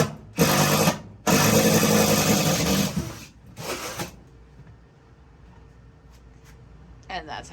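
A power drill runs in two loud bursts, the second about two seconds long, while drilling a hole during an outdoor patio light and outlet installation; quieter rustling and handling noise follow.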